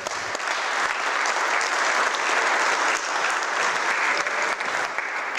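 Sustained audience applause at a security conference keynote, BruCON, thanking the review board; dense steady clapping from a large crowd, loud and even throughout with no talk over it.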